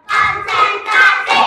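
A classroom of students doing a counted clapping routine, four quick bursts of hand claps in a row, loud and close, with no talking between them.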